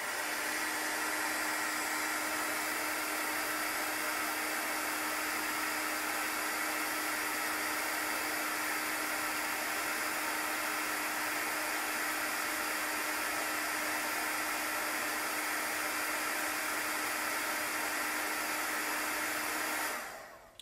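A hair dryer blows steadily and loudly at close range to dry watercolor chalk paint, one unbroken whirring hiss that cuts off abruptly at the end, with no talking.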